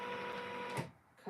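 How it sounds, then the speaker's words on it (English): A Janome M17 sewing machine runs a quick straight stitch around a quilt block, a close, fast mechanical whirring burst that stops abruptly, followed by a brief click. "Now I'm gonna do that straight stitch going around just to make sure."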